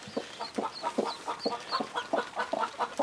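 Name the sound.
hens clucking in a coop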